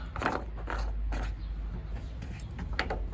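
Plastic pump filter cap being screwed tight on a Samsung Ecobubble washing machine gives a few short, close creaking twists in a quiet room.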